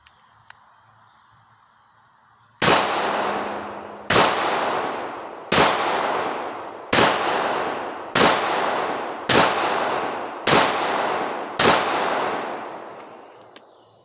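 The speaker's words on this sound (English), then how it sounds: "So it is a real German po8 Luger. It doesn't really need any introduction, but so let's go ahead and give it some shooting." Eight sharp gunshots from a German P08 Luger pistol fired outdoors, loud and close with a long echoing decay after each, spaced at roughly even intervals about one to one and a half seconds apart.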